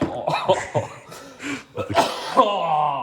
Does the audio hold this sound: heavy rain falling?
no